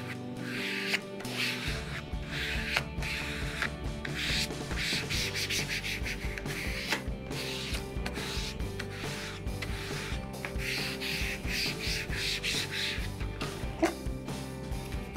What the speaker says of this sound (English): Now we can take the liner off, and we know it's in a good spot, and then squeegee it down.